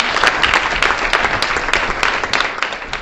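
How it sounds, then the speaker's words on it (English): A crowd at a county commission proclamation ceremony applauds steadily for several seconds, dense clapping filling an indoor chamber with a few louder claps standing out. "please give all of these folks a round of applause"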